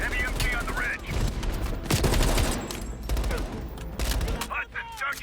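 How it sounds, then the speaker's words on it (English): Heavy machine gun fire in Call of Duty Black Ops Cold War, bursts of rapid rattling shots mixed with explosions and in-game voices, loud and continuous with brief lulls. "Heavy MG on the ridge."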